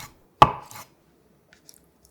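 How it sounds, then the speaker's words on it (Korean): A knife slices once through a block of tofu on a cutting board with a single sharp, close thunk, followed by near silence and a few faint ticks. "국을 풍부하게 해주는 두부 반모도 길게 3등분해서 1cm 넓이로 썰어 준비합니다."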